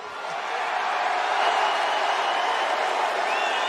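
A large arena crowd at UFC 264 boos in a sustained, loud, dense roar after a fight, with no break in the sound.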